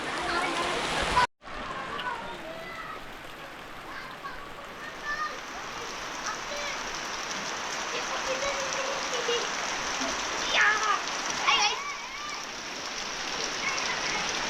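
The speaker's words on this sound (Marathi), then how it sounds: "कसला धोधो पाऊस पडतोय बघा" Steady heavy rain from a sudden Konkan downpour pours down in a constant hiss, with voices and shouts faintly audible underneath.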